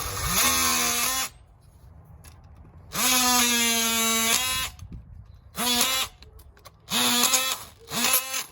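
A power tool cuts metal for a grille modification on a 1999 first-generation Toyota Tacoma, loud whining bursts of about a second or more separated by pauses, four or five runs in a row, close by with no talk.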